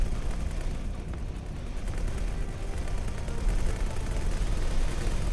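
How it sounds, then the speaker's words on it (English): Ship turrets firing in space combat in X4: Tides of Avarice, a continuous rapid rattle of shots under a dense roaring rumble, loud and sustained throughout. "All turrets focusing fire on the K."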